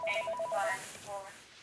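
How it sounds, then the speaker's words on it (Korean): A telephone ringtone trills in short repeated electronic bursts, then a softer second ring, with a voice talking over it. "프랑크푸르트에 사는 한인 목사는 이상한 전화를 한 통 받게 됩니다."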